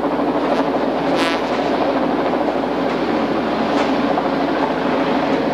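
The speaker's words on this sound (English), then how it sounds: "Should get a good shot of this helo coming in." A helicopter coming in to land near an aircraft carrier, its steady, loud rotor and engine drone continuous throughout, with no talk.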